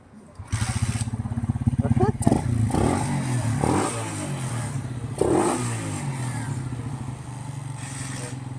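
A motorcycle engine idles with a steady low rumble that rises briefly, while people talk nearby over it.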